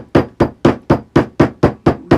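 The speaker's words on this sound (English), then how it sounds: "Gonna hammer those knots a little bit." Leather knots for shoe toggles struck flat with a hammer, nine even, sharp blows in a steady rhythm, close and loud with no talk.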